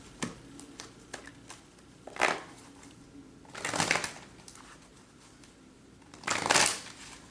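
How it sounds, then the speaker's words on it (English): Romance Angels oracle cards being shuffled by hand, soft papery riffles in a few distinct bursts separated by quieter handling, close and fairly quiet. "I'm going to pull some Romance Angels cards"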